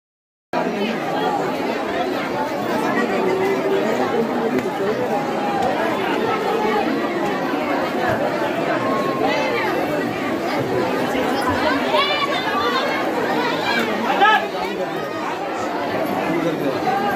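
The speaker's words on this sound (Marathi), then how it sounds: "जाम म्हणजे जामच गर्दी झाली" A dense crowd of devotees packs a Navratri festival temple for Kelambadevi, producing a steady, loud wash of overlapping chatter and voices that continues throughout.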